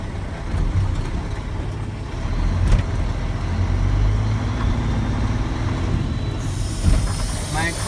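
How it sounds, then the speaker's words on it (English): A truck creeping along at walking pace rumbles steadily as its trailer service brake is applied, a loud, close engine drone under a voice, with a sharp hiss of air near the end. "Driving 5 miles per hour at least for 10 foot and use the trolley service brake"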